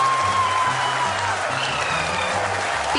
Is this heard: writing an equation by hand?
no